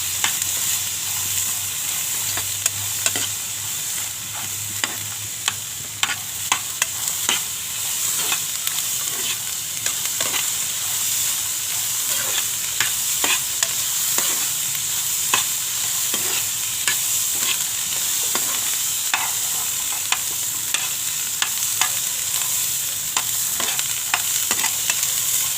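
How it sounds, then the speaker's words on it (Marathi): Green peas roast in a pan with ginger, four chillies and garlic, a steady dry sizzle broken by frequent light scraping and stirring clicks throughout. "बरोबर 8 मिनटं मी हे भाजून घेतलेत वाटाणे"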